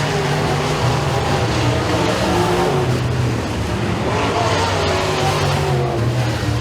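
Race cars at Eriez Speedway roar past at close range as a heat race reaches the checkered flag, a dense, continuous engine drone with rising and falling revs.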